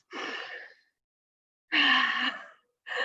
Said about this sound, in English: have you ever been encouraged to take a deep breath and you find this happens?